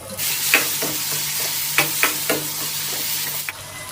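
Tomatoes tossed into onions frying in a pan for a Punjabi vegetable curry, steady sizzle with several sharp spoon scrapes and clicks from stirring, close up with no voices.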